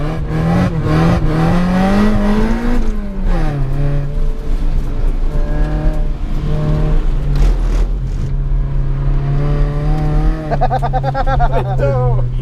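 A car revved hard in first gear with the tires spinning to build heat at a snowy track day, the engine's harmonic drone climbing and dropping through loud, sustained revs, with brief squealing bursts and a voice talking over it.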